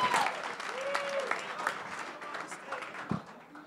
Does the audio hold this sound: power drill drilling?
no